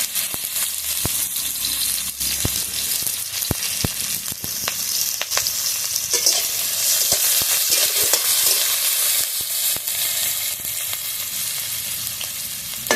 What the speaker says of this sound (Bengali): তেলটা ভালোভাবে গরম হয়ে গেছে, তেলের মধ্যে দিয়ে দেবো পেঁয়াজ কুচি আর কাঁচা লঙ্কা চেরা